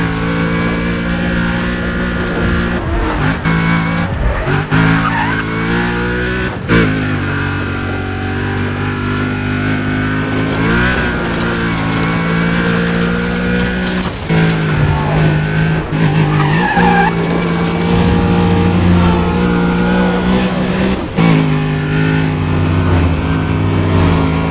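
A car engine roars and tires skid in the racing game Need for Speed Undercover, with loud, sustained engine tones rising and falling through gear changes and repeated tire squeals across the whole stretch.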